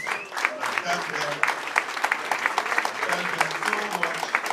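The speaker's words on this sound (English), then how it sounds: "Can we stand up and give a proper" Applause from the audience at a farewell dinner, standing to honour the wives, fills the room as dense, continuous clapping with some voices mixed in.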